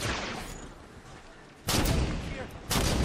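Two heavy sniper rifle shots ring out in Halo 5: Guardians, each a sudden loud broadband crack with a lingering tail, spaced about a second apart over a dense background of battle noise.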